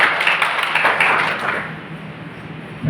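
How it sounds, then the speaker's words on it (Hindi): Audience applause at an event of a cooperative society employees' federation in Bhopal, Madhya Pradesh: a dense wash of clapping from a crowd, fairly loud at first and gradually thinning and fading. "एक बार दीपक चौधरी जी की जोरदार तालियां"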